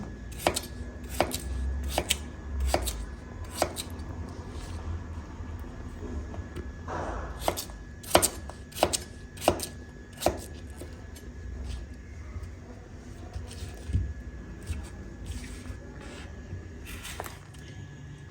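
Repeated sharp knife chops through unpeeled cucumber on a cutting board, coming in irregular bursts of quick strokes with quiet pauses between, close and clear.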